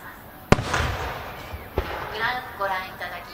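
Fireworks at a fireworks festival: two sharp launch bangs about a second apart, then crackling, popping bursts from 5-inch creative shells, heard over a narrator's voice.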